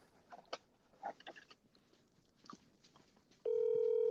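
Quiet clicks and faint rustling, then a loud, steady electronic telephone ring tone starts abruptly and continues to the end.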